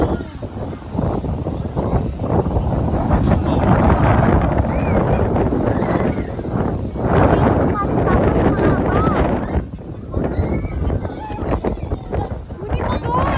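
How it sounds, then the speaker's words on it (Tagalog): Strong wind buffets the microphone loudly and constantly at the Tanay Highlands campsite while people talk and call out over it in Filipino. "Lakas ng hangin!"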